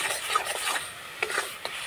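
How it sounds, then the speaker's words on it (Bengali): Carrot paste being stirred and fried in ghee in a pan, with a spoon rasping and scraping in short, close strokes over a faint, steady sizzle. "গাজরের পেস্টটাকে নাড়াচাড়া করে একটুখানি ভেজে নেব।"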